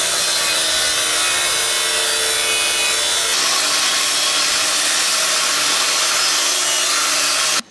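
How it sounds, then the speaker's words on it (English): Angle grinder cutting metal plates for a sailboat, a loud continuous high-pitched whine and grinding rasp that holds steady, shifts slightly midway, then cuts off abruptly at the end. "So we sourced the materials, Trent got out his grinder"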